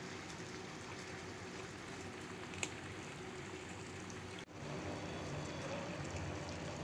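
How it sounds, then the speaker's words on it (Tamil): Quiet, steady bubbling and simmering of liquid in a pot, a soft continuous rumble with one small click partway through. "இப்போ நல்லா கொதிக்க ஆரம்பிச்சிருச்சு."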